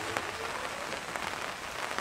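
Heavy rain falls steadily at a campsite, a dense close hiss with scattered louder drops throughout.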